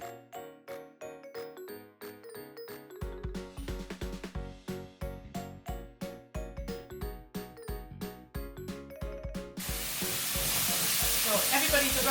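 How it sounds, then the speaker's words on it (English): Sizzling of lardons frying in a hot pan with regular metallic clinks and scrapes of stirring, the fizz swelling louder and denser toward the end. "I'm just frying off the lardons."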